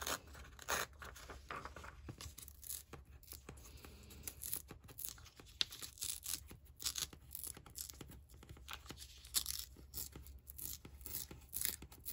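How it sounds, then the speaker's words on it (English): Paper being torn by hand for a handmade junk journal, a run of close, crisp ripping and crinkling bursts in uneven rhythm across the whole stretch, with no talking. "and then I'm just gonna rip this one"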